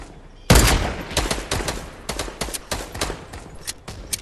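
Gunfire in Fortnite breaks out as a sudden loud burst, then rapid repeated shots in uneven volleys, close and punchy, with no talk.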